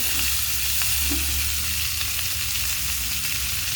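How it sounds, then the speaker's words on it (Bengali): Red chillies and other ingredients frying together in a pan give a steady, close sizzle with a low stirring rumble underneath, continuous throughout with no voices. "এগুলো ভেজে নিচ্ছি লাল লাল করে"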